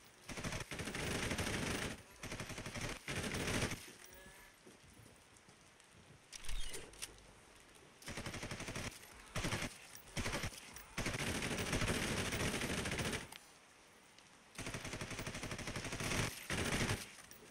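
Automatic gunfire in the video game Red Solstice 2, loud sustained bursts of rapid shots broken by short pauses, repeating throughout the stretch.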